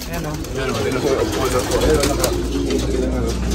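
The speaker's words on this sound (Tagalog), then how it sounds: "Biglang dami kalapati uli dito eh." Pigeons coo softly in a flock while someone talks over them, the birds' low murmuring continuous beneath his voice.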